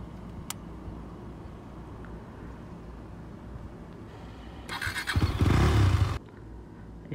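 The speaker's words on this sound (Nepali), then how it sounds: "बाइकलाई स्टार्ट गऱ्यौँ।" A motorcycle engine starts after a few seconds of quiet outdoor ambience, giving a loud, rough burst of about a second and a half before it settles back down.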